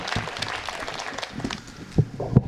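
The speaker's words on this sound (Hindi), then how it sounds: "इस कमेटी के लिए जरा एक बार जोरदार तालियां बजा दीजिए" Audience clapping at a Hindi comic poetry gathering, a moderate scattered patter of hands that stays fairly even before a couple of louder claps toward the end.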